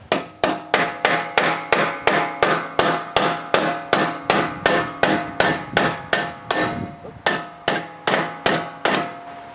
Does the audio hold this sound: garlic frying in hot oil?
no